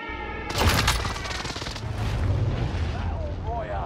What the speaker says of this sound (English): How about an airstrike here? This is Phoenix 3. Strike inbound.